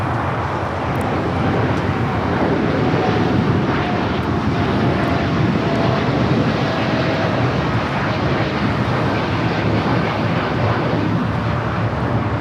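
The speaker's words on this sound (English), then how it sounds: "That was United 1855 taking off to Newark on the 787-9 Dreamliner." A United Boeing 787-9 Dreamliner takes off from LAX bound for Newark, its jet engines giving a broad, sustained roar that swells slightly and stays strong for the whole stretch.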